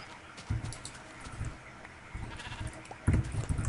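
Sheep in the Minecraft video game bleat in short bursts several times over a faint background, the calls fairly quiet and spaced irregularly.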